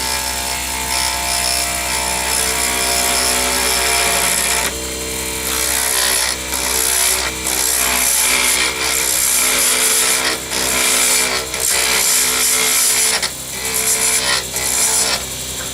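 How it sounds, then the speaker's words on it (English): An ebony pen blank spins on a wood lathe at high speed while a skew chisel shears it, a steady motor hum under a rough, scraping cut that breaks off and resumes several times. "We'll turn the lathe on, turn the speed up"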